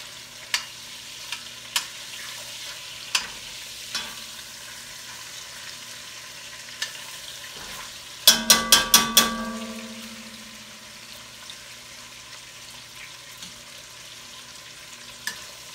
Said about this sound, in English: You just want to sear them juices inside that chicken.